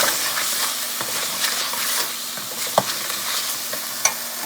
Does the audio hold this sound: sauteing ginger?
yes